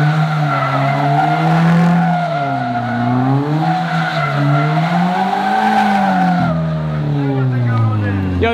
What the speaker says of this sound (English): This guy can drift for sure.